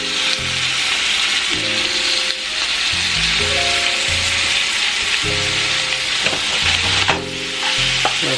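Garlic, onion and lemon sizzle in butter in a pan, a steady loud fry hiss with repeated stirring scrapes and clanks throughout, no talk.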